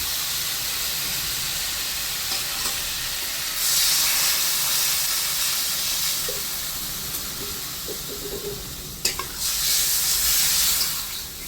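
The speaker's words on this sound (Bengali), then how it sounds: "তরকারিগুলো কষানো হয়ে গেছে, এখন দিয়ে দেবো জল।" Water poured into sautéed potato and pointed gourd curry in a hot pan sets off a loud, steady hissing sizzle that swells partway through and then settles, with no talking.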